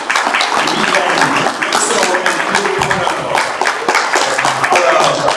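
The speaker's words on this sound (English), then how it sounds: "let's give a round of applause" A crowd at a sanitation convention applauds, a dense burst of clapping that stays loud and continuous throughout, with some voices mixed in.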